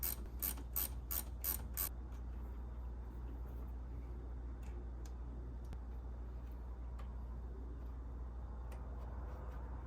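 Ratchet clicking on a 4Runner battery ground connection, a quick run of sharp close clicks at the start, then a low steady hum with occasional faint ticks.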